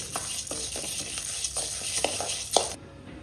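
Ingredients crackle and pop while frying in a hot pan, a dense steady sizzle with repeated light taps and scrapes of stirring, close and fairly loud, cutting off sharply near the end.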